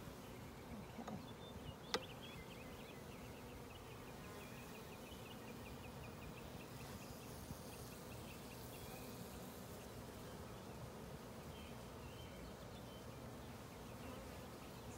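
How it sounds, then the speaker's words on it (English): Honey bees buzz steadily around an opened hive during an inspection, a soft continuous hum close by with one faint click near the start and no talking. "Got a little bee on me."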